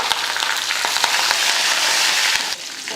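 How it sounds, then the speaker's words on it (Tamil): Mustard seeds, chopped shallots and curry leaves crackle and sizzle in hot oil for a sambar tempering, a steady dense frying hiss with a few sharp pops, close and loud throughout. "எண்ணெய் காஞ்சதுமே கொஞ்சம் கடுகு போட்டு கூடவே ஒரு கையளவுக்கு சின்ன வெங்காயத்தை வெட்டி போட்டிருக்கேன்"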